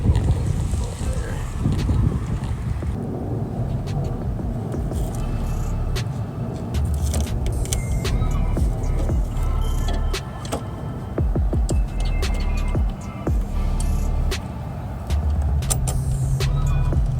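An old Saab turbo with a four-speed gearbox idles close by. Its steady, rumbling engine noise is mixed with wind buffeting and scattered clicks, with a voice faintly present.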